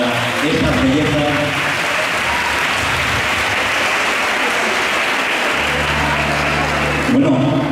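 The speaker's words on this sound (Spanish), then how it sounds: "Un fuerte aplauso para estas bellezas" A large crowd at the 2019 Fiestas del Rosario queen and mister pageant in La Unión bursts into loud, sustained applause, a thick continuous roar of clapping with a low musical hum underneath that drops away near the end.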